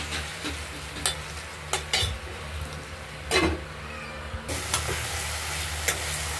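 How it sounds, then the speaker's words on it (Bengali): Tomatoes with spices and a little water sautéing in a pan, giving a steady soft sizzle with intermittent scrapes and clinks of stirring, fairly quiet and close. "মশলা দিয়ে টমেটো দিয়ে দিলাম, একটু সামান্য একটু জল দিয়ে দিই, কষাটা ভালো হবে।"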